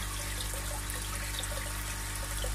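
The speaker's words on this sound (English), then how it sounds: "then you'll be able to see where the water exits" Excess koi pond water flows out of a black pipe into a fry tank, a steady continuous trickling and splashing heard close up without any voices.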